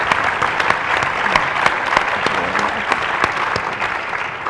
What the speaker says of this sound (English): And if we can give him another round of applause.